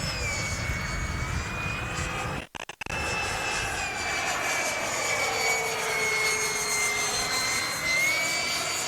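A Durafly Vampire V3 RC model jet flying overhead, its steady high whining turbine roar sustained throughout with a brief dropout partway, loud and close with no talk.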